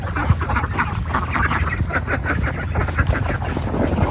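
Ducks quack busily beside a flowing village stream in the rainy season, a loud, close flock of overlapping harsh calls in rapid irregular bursts, with no talk over them.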